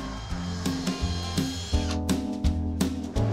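Cordless power drill driving screws into wooden battens that hold roof tiles, heard as short repeated bursts of motor whine rising and stopping in quick succession, close and fairly loud.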